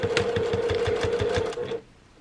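A sewing machine back stitching on an eyeglass case, running in a quick steady rhythmic whir of stitches for under two seconds before stopping abruptly, close and clear with no talk.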